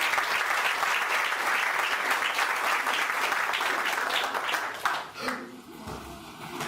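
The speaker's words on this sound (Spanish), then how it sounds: "Aplaude a la Señora y ponte de pie." A church congregation breaks into dense, sustained applause that fades after several seconds into a quieter room with faint sounds.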